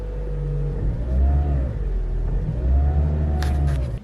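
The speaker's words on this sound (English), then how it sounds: "Let me just add a little bit of gas" Car engine revving as gas is applied, two rising and falling revs close by, loud and smooth, followed by a few faint clicks near the end.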